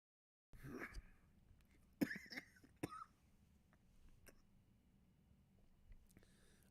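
A man in a quiet room gives a few short, muffled coughs and throat-clearing sounds close to the microphone, spaced a second or so apart, followed by low background murmur.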